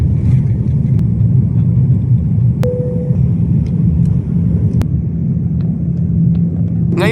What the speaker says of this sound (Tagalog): Pabilis ng pabilis ang andar ng eroplano habang paakyat sa itaas.